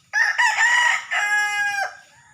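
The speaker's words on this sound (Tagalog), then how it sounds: "Yung mga manok ko guys na na patuka ko na." A farmyard rooster, kept with freshly fed chickens, lets out a single loud, close crow in one long drawn-out call that cuts off abruptly, with no talking.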